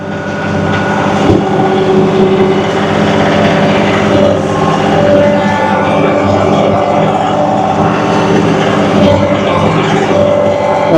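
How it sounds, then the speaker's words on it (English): A John Deere 2038R compact tractor works close by, its steady engine drone loud and continuous while it dumps excess crusher run stone during site work, with some wind noise in the background. "And this is so low where the tractor is right now, I'm using some of the excess stone just to throw down there"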